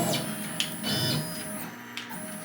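A CNC router gantry jogs into position with short motorized whirring moves and stepper hum, faint and close in a woodworking shop, with no one talking.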